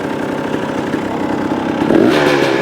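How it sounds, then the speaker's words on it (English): A motorcycle fitted with an XTNG Gen3 Pro metering rod carburetor idles close by, a steady, even low engine throb that swells slightly near the end. "I like the way that's idling. You can hear it"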